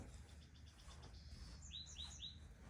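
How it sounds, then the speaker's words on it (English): Small bird chirping outdoors just beyond an open window, a run of quick faint tweets followed by a few brighter, clearer chirps, fairly near over a steady low background hum. "there's a bird outside the window"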